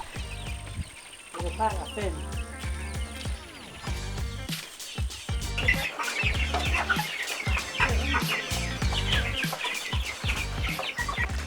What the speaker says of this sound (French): j'ai une activité secondaire qui consiste à faire l'élevage des poulets de chair